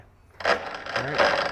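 A geared Milwaukee M18 FUEL 12-inch dual bevel sliding compound miter saw whirs as its blade turns, a close mechanical hum with a faint grinding tone that starts abruptly and holds steady. Someone speaks briefly at the start.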